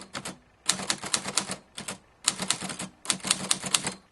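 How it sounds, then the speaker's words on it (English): A typewriter clacks in several rapid bursts of keystrokes separated by short pauses, close and crisp, with no voices. "A typewriter."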